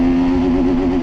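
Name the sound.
TVS Apache RTR 310 motorcycle accelerating in sports mode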